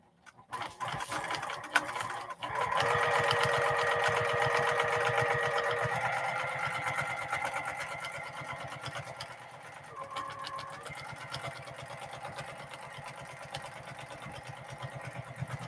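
A sewing machine doing free motion ruler quilting runs in a fast, steady needle rhythm. The stitching swells loud early on, eases slightly, briefly slows midway, then carries on close and continuous with no talking.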